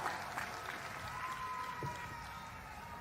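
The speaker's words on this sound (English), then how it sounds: "I'd like to give the University Concert Band a round of applause" Audience applause for the University Concert Band at the Howard University 2026 graduation ceremony, a fairly distant, steady patter of clapping from a large crowd with faint cheers mixed in.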